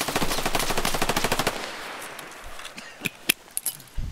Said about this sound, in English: I seen him shooting.